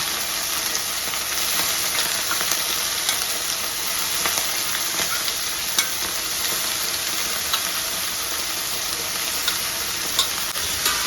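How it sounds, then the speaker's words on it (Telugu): Fresh ridge gourd pieces for a masala curry being stirred in a hot pan, a continuous bright sizzle and hiss with small clicks of the spoon against the pan throughout. "సో మనం ఫ్రెష్ పొట్లకాయలు వేసుకున్నాం కదా దానిలోనైతే మంచిగా కలుపుకోవాలన్నమాట"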